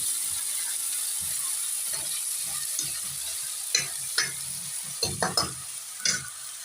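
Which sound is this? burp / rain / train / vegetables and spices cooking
vegetables and spices cooking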